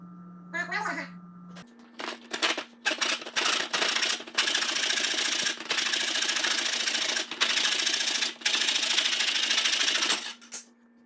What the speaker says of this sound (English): no need for me to break out my miter, just do it with your little handsaw